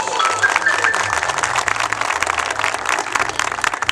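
Crowd clapping at a midday inauguration of newly paved streets in a village hamlet festival, a dense continuous patter of many hands with low voices and music murmuring underneath.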